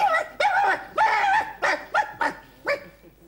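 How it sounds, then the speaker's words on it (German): A dog barks loudly and close by in a quick series of about six sharp barks with short whimpering yips between them, with no voices over it. "Ich belle nicht, der Hund bellt."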